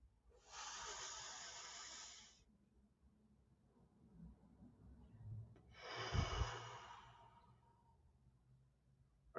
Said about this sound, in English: let's go ahead and begin with the first breath